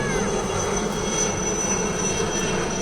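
ALH Mark 3 and Cheetah military helicopters flying past in formation at an Eastern Command military tattoo in Kolkata, giving a steady, continuous engine roar at moderate distance with no breaks.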